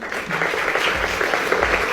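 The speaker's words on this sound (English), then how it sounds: "Why is the audience clapping?" Studio audience clapping on a daytime talk show, a steady broadband wash of applause holding at an even level for the whole two seconds with no voices over it.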